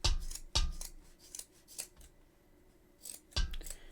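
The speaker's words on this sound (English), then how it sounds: "we're going to be cutting a lot of strands of yarn" Sharp scissors snip through strands of yarn in a quiet room, several crisp separate cuts with short pauses between them, close to the listener.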